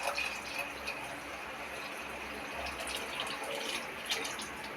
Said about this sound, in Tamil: புளி தண்ணியை அப்படியே ஊற்றிக்கலாம்.